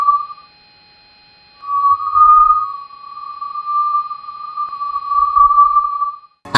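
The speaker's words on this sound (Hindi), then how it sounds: "ये तीसरी ऑडियो हाई चार्ज पार्टिकल्स में होने वाले बदलाव की आवाज है।" Sonified solar data from the Parker Solar Probe, tracking changes in high-charge particles: a sustained pure electronic tone wavers gently after a short opening blip and gap, with faint low rumbles beneath and a sharp burst at the very end.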